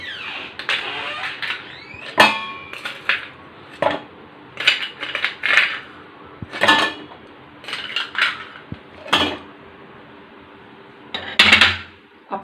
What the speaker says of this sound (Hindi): अब मैं इसमें डालूंगी आइस क्यूब।